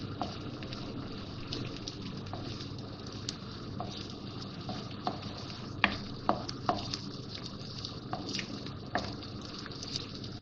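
Onions softening in about four tablespoons of oil inside a degchi give a low, steady sizzle with soft stirring scrapes and a few sharper clicks, heard close but fairly faint.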